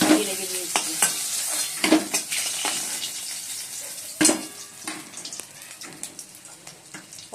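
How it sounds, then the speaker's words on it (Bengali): Fish fries in a little oil, the steady sizzle broken by frequent sharp spattering pops and crackles at irregular intervals, fairly close. "অল্প তেল দিয়ে ভাজি, না খুব ফুটছে, তেল দিয়ে চতুর্দিকে ছিটকে আসছে।"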